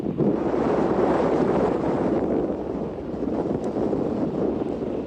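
Strong, steady wind roars across an open Antarctic coast at Port-Martin, with loud, continuous buffeting and gusting against the microphone throughout.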